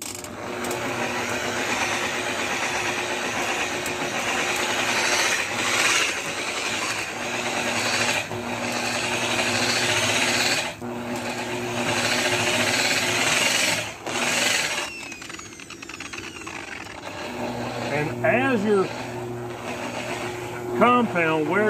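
A machine polisher buffs a sailboat hull with a compound that breaks down to finer grit, giving a steady whirring grind with pitch changes as it is turned down, while a person talks over it.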